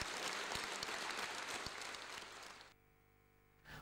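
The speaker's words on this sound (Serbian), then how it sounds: "Ovacije publike zaista sinoć za Noć bogova" Audience applause after a theatre play, dense steady clapping from a crowd that fades out near the end.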